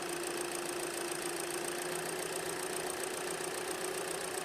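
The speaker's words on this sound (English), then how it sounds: "So as you can hear, the engine is running." Hyundai Elantra engine idling with a rough, surging running condition, a steady faint mechanical hum and whine heard alone without talk.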